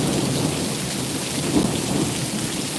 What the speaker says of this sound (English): Oh, big thunder.